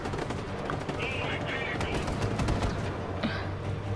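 Rapid gunfire bursts from Just Cause 3 rattle across the whole clip, dense and steady, mixed with game effects and a low engine-like hum.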